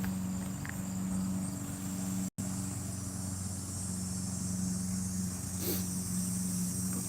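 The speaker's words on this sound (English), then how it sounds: "Gotta love the cicadas." Cicadas drone in a steady, high-pitched continuous buzz outdoors, with a low engine hum running underneath throughout and a brief dropout partway.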